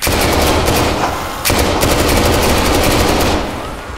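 Loud, dense automatic gunfire in the Dead Frontier 2 video game, a sustained rattling burst that briefly breaks and resumes before easing off, with no talking.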